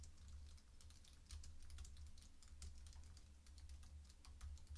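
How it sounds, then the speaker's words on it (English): Quiet, steady typing on an Apple Magic Keyboard: rapid, soft, low-profile keystrokes in an even stream, close up in a calm room. "here are some typing sounds from a Magic Keyboard"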